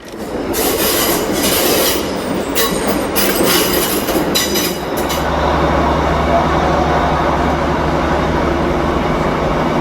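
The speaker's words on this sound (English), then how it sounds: "Train's coming." A train passes close by a ditch near a tidal river, loud rolling rumble with squealing wheels and rattling clatter in the first half, then a steady low drone as the cars continue past.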